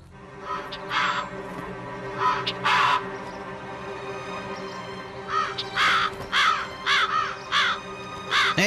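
Crows caw repeatedly in an animated cartoon series, harsh calls in irregular clusters over a low background hum, some louder and nearer than others.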